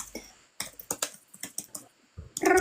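Fast typing on a computer keyboard, close up, with bursts of quick key clicks and short pauses between them, and no speech.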